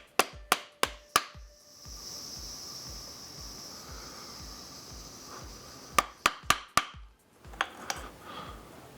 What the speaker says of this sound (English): you need to hit them to pop the lowers off